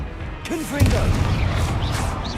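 Confringo blast spell in the Hogwarts Legacy video game: a short booming explosion bursts out near the start and decays into a rumbling tail, with voices and chirpy in-game effects mixed over it.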